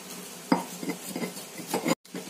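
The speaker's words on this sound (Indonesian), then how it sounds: "Ini kita ulek sampai halus" A stone mortar and pestle grinds spices with salt into a paste for a fish dish, giving close, uneven scraping and grinding strokes with a few sharper knocks.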